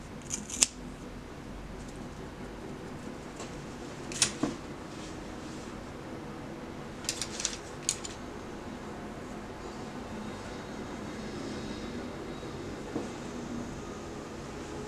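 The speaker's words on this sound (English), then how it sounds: "So every time you just cut it shorter and shorter." Scissors snip through synthetic wig bangs in a few sharp, close clicks, one early, one around the four-second mark and a quick cluster near seven to eight seconds, over a steady faint room hiss.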